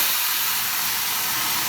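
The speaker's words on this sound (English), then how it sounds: "Add a little pasta water directly into the pan." Pasta water poured into a piping hot pan for cacio e pepe, sizzling and hissing as it turns to steam: a loud, continuous, bright hiss that fills the whole short moment, with no talking.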